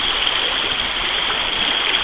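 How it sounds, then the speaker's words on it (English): A small trout stream flows under a bridge with a steady, close, even rush of water and no breaks or voices. "here we are in a lovely little trout stream"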